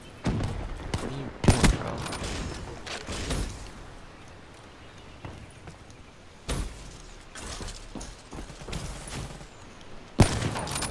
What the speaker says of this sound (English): Who in the heck is over here just busting out shots left and right?